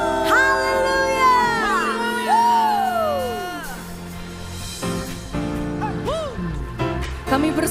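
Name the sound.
congregation cheering and applauding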